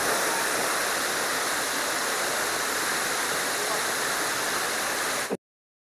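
Gandahati waterfall in the hills of Gajapati district, Odisha, roars in a loud, unbroken rush of falling water from close by for over five seconds before stopping abruptly.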